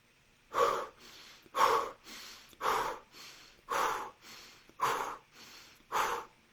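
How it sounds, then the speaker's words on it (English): Rapid pumping belly breathing during a meditation, sharp forceful breaths repeating in a steady rhythm about once a second, close and clear with softer breaths between them. "Pushing your belly out as you breathe in and then contracting it as you breathe out."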